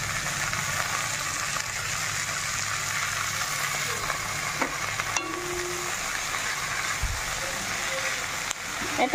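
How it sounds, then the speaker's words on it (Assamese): Leafy greens fry in a pan with a continuous hissing sizzle, loud and close, with faint scraping and stirring touches and no voices. "এতিয়া শাক ভাজিম"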